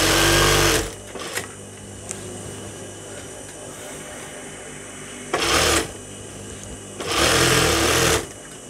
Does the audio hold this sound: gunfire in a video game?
no